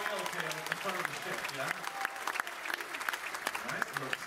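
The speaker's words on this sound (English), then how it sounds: "Ladies and gentlemen, give them a huge round of applause for the Pacific Jewel" A crowd applauds the Pacific Jewel, a model ship shown at an event in Vanuatu, with sustained, dense clapping carrying crisp individual claps throughout, and faint voices murmuring beneath.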